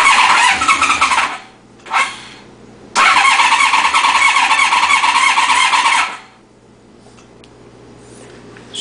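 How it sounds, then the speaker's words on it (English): A restored 1992 Honda VFR750 RC36 motorcycle engine cranks and catches in two short loud bursts, then runs roughly for about three seconds before cutting out, leaving near silence. "Let's turn the choke off. And she starts. And she dies."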